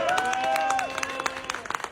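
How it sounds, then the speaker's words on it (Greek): Audience clapping for a prize draw winner at the Agrothessaly 2025 agricultural exhibition, a short burst of scattered claps under a drawn-out voice that fades as the clapping thins out. "Ένα χειροκρότημα"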